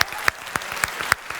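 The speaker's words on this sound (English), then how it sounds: "A big applause, please, especially for Patrick and the whole team." Applause at a live exocad Insights 2020 event, a small audience clapping close and sparse, with distinct individual claps falling in an uneven rhythm rather than a dense roar.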